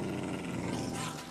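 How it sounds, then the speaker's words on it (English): A wolf in the Minecraft video game growls in a low, continuous rumble lasting just over a second, fairly close and steady, with no talk over it. "No, don't kill that puppy!"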